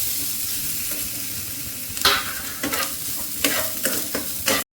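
Grated coconut frying with cashews and raisins in a pan, stirred with several distinct scraping strokes over a constant close sizzle.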